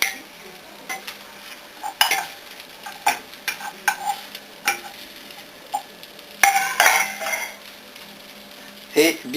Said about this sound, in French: Au bout d'1 minute, vous retournez le steak.